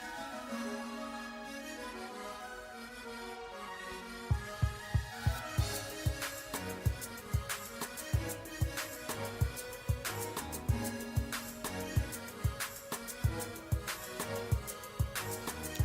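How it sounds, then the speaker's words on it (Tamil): Eggs whisked into a sugar mixture for baked donuts: after a quiet start, steady rhythmic whisk strokes tap against the bowl, fairly close and evenly paced, over a soft musical background. "இதை அடிச்சுட்டு இனி அந்த அடித்து வச்ச முட்டையையும் இதுக்கெல்லாம் விட்டு அடிக்க போகிறேன்"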